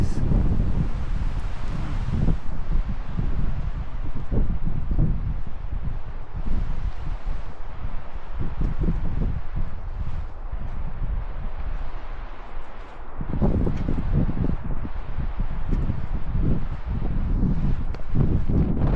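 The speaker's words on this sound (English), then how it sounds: "Man, some of the gusts are strong." Heavy wind gusts on a mountain trail roar against the microphone, surging and easing over time, with a brief lull before blasting back strongly.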